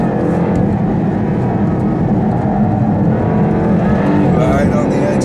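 A 550-to-600-horsepower Jaguar coupe accelerating hard on a race track, its rear sliding as the wheels spin. The engine roars loud and steady, close by, with people talking over it throughout.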